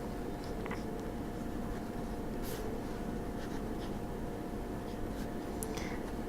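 A Pilot Metropolitan fountain pen with a fine nib scratches steadily across paper, close and quiet, a continuous soft rasp broken by a few faint ticks as strokes begin and end.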